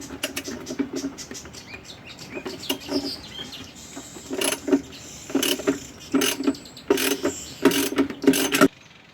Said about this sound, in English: Now I have to loosen the bolts.